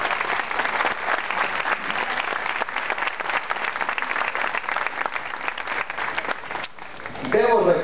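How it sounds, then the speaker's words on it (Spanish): Applause at a municipal annual report ceremony, steady dense clapping from a crowd for about seven seconds, fading briefly before a voice and a renewed burst at the end. "para quien pido un caluroso aplauso"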